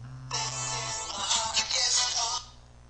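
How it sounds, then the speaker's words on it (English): A telephone ringtone plays for about two seconds, a bright warbling electronic tune that fills the room, then cuts off. "Sorry about that phone call."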